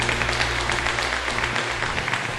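Dense, continuous applause from a church congregation during a worship service, loud and evenly sustained for the whole stretch with no talking over it.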